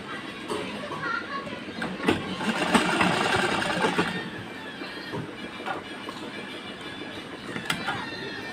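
A sewing machine runs steadily while stitching a blouse seam, its even mechanical whirr close and continuous, with faint rattling and clatter layered over it.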